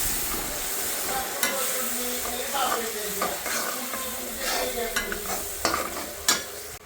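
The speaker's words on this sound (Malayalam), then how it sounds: "എന്നിട്ട് വീണ്ടും വഴറ്റി കൊടുക്കണം" Garlic pickle mixture with vinegar sautéed in a pan: a continuous hissing sizzle with intermittent spoon scrapes and stirring clatter, close and fairly loud.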